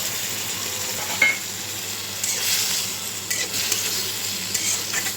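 Tomatoes sautéed in a pan before fish goes in, a steady low sizzle broken by a few spatula scrapes and light clinks against the pan, close up with no talking.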